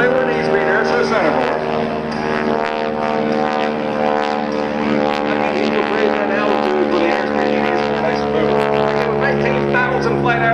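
An aerobatic propeller airplane at an airshow drones loudly and steadily overhead, its engine tone wavering slightly as it maneuvers.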